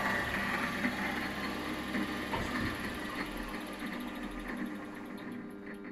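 Holzmann ED400FD small lathe running at its top speed of 1250, a steady close mechanical whir and hum with a faint high whine, continuous and without speech.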